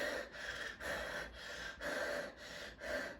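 A voice imitates short, quick breathing, a run of about six rapid, breathy gasps in an even rhythm, each separated by a brief dip, with no other sound.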